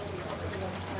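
Steady rain falls continuously in the early evening, a dense, even hiss with no gaps across the whole moment, recorded close by at a low level.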